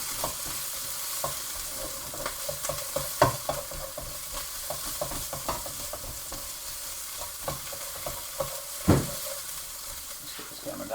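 Prawn noodle stir fry with ginger being stirred in a hot pan, a steady close sizzle with scraping utensil strokes and one louder clatter near the end, no talking.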